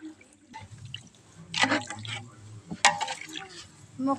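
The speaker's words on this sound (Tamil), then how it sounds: "பத்தாவது டம்ளர் தண்ணி கொஞ்சம் ஊத்திக்கலாம்" Water poured by the tumbler into a chicken dum biryani pot over a village-style wood-fired stove, landing in a couple of short splashing bursts amid kitchen clatter, with people talking nearby.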